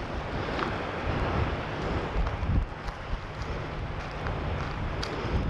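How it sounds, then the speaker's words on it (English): Strong wind buffeting the microphone at an exposed waterfront viewpoint in Point Defiance Park, Tacoma, a continuous loud rumbling roar with gusty bursts and faint surf-like wash beneath. "It's pretty windy."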